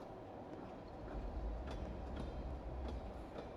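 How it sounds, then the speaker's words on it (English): A train rolling along in the video game Pathologic 2, a steady low rumble with faint rhythmic clatter that swells slightly partway through, heard alone without voices. "Alright, go in the train car."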